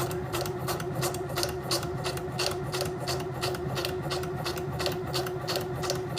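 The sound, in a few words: sewing machine back stitching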